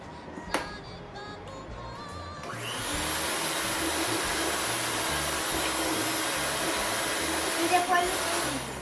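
An electric mixer beats American cookie dough with a steady, loud whirring drone that starts abruptly and continues unbroken, near and alone.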